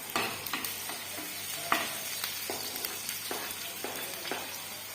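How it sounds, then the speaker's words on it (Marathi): Leftover white rice stir-fried with mustard seeds and onion, a spatula scraping and tossing it in steady strokes over a soft continuous sizzle, close and fairly loud with no voices. "तर इथं भात परतून घेते."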